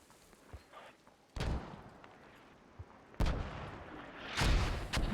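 Mortar rounds impact in the Squad video game, distant heavy thuds arriving one at a time at irregular intervals, several booming blasts with rumbling tails over faint background noise.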